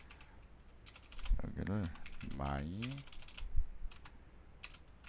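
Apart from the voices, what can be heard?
typing a search on a computer keyboard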